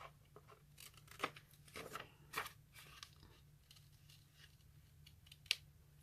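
Scissors trim the flap of a handmade paper envelope, several quiet, close snips and crisp paper rustles spaced irregularly over a few seconds.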